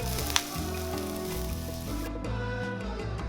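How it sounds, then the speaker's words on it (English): Beef patties for loco moco browning in a frying pan give off a steady, close sizzle under a low background hum, with one brief clink near the start. "let them slowly brown on one side"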